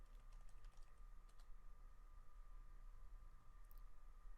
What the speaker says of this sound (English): now if I type new login next to my website URL